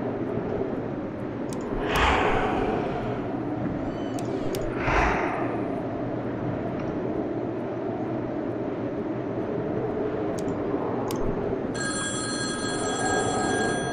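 An old telephone bell rings twice in a Boogeyman horror game, short bright bursts about three seconds apart over a steady low ambient drone.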